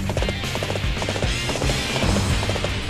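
A horse gallops in the video game Dynasty Warriors 8, its hooves clip-clopping in a quick, steady rhythm close up and fairly loud, with no voices over it.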